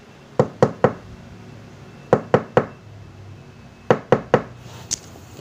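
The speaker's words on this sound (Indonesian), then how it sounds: "menoleh ke arah pintu yang terdengar seperti diketuk" Three groups of three sharp knocks rap on a door, loud and close, evenly spaced with pauses between each set, followed by one softer tap.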